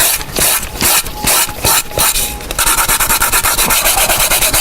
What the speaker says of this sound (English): So what you do is just